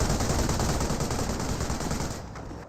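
Dense, loud machine gun fire from an MMG carrier in Company of Heroes rattles without pause, a continuous burst that tapers slightly at the end.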